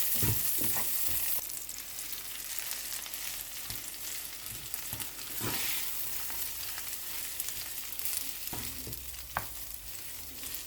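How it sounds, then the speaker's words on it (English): Garlic, chili and a bowl of rice sauteing in a hot pan for fried rice, with a steady close sizzle and repeated scraping stir strokes throughout, no voices. "From the same pan, let's saute the garlic."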